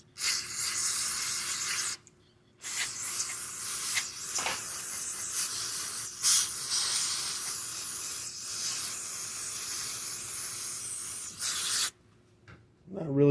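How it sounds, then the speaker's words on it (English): Carb cleaner sprays from a can with a straw into a Honda GX630 or GX690 carburetor, loud close hissing bursts, a long spray broken by short pauses, with brief talk. "I need a can of carb cleaner with a straw, please."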